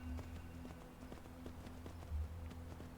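Horse hooves clip-clopping in Skyrim, a steady trotting rhythm of soft clops over a low ambient hum, no talking.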